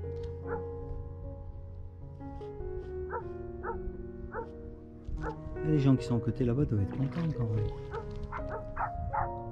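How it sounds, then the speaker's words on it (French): Two dogs bark back and forth outdoors, one nearer and one answering from farther off, the barks coming in uneven bursts. A person speaks French over them. "Ah, il y a son pote qui lui répond. C'est une réunion de chiens."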